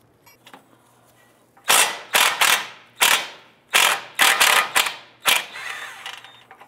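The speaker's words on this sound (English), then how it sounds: "Next, we're going to go ahead and remove this nut right here." A ratchet clicks rapidly and loudly in repeated close bursts as the outer tie rod nut on a Honda Civic is loosened and spun off, with brief pauses between strokes. No speech is present.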